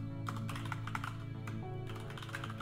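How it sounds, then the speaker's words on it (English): Quick, light keystrokes clatter on a computer keyboard in a quiet room, a brisk irregular run of soft clicks with a short pause midway. "let's just go ahead and type clone mesh equals"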